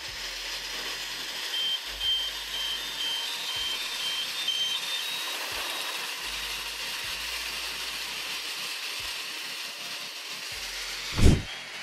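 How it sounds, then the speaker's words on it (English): A tree shaking machine harvests almonds in an orchard, its steady engine rumble broken by repeated low pulsing thuds and a loud reversing-style beep, with a sharp burst near the end. "Almond harvest with tree shaking machine"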